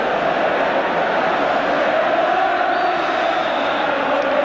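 A packed football crowd at Wembley during the 1982 League Cup Final between Liverpool and Spurs roars in a loud, continuous wash of massed voices, with steady chanting and no single voice standing out.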